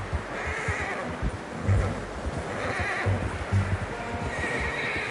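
Horse neighs and whinnies loudly in a Red Dead Redemption 2 game scene, with hoof clip-clops and steady ambient noise beneath over five seconds.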